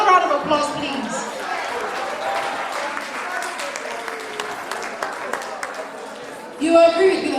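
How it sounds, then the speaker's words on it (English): A crowd applauds at an association's annual general meeting, steady dense clapping mixed with chatter and a speaking voice, ending in a louder burst near the close. "Another round of applause, please."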